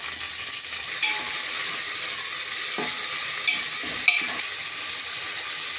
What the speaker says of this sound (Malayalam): ഞാൻ നന്നായിട്ടൊന്ന് ഇളക്കി സവാള വഴറ്റിയെടുക്കാം